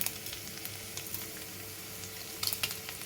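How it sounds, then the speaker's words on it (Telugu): Chopped garlic sizzles in hot oil with mustard seeds and cumin for a ridge gourd curry: a steady, quiet frying hiss with a few small pops, close by and with no voices. "ఇప్పుడు ముక్కలు చేసుకునేటువంటి వెల్లుల్లిపాయ అవి వేస్తుండగానే"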